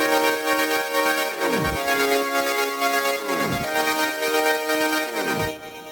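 FL Studio Flex lead synth processed with Gross Beat, a filter and reverb, sustained bright chords pumping in a repeating pattern about every two seconds, ending with a brief drop in level, loud and alone.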